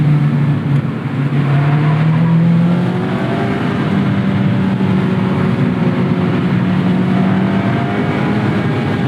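A 2024 Mazda MX-5 Miata Club ND with BBR tuning driving a tight canyon road, its engine droning loudly and steadily with shifting pitch as it accelerates and eases, alone without talk.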